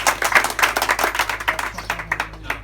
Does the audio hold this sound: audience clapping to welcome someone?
yes